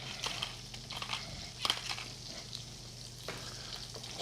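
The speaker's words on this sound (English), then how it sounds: "I'm going to stir this together." Shrimp salad being stirred together after a pinch of salt and pepper, giving soft, continuous scraping and wet clicking strokes with a few sharper taps, fairly close and quiet, with no talking.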